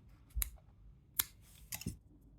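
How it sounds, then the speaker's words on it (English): A few sharp scissor snips cutting thread for a handmade jewelry pendant, three or four quiet close clicks spaced apart over a hushed background. "Now I cut the thread."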